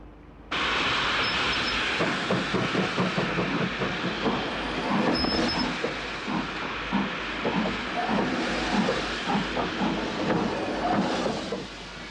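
A train rumbles steadily with hissing steam and clattering wheels at Didcot Railway Museum, loud and continuous throughout, with a faint high whistle-like tone partway through.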